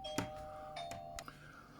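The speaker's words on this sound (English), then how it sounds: "Sorry, one of our doorbells there." A home doorbell chimes faintly in the background, a couple of soft ringing tones with quiet clicks, heard indoors at a distance.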